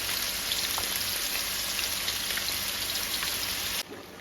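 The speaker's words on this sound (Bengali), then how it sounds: "এখানে একটু মাছ এগুলো ভেজে নিচ্ছি" Constant crackling sizzle of fish frying in hot oil, dense and even, cutting off abruptly near the end.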